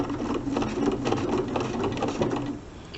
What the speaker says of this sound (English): So I'm going to start with a few straight stitches,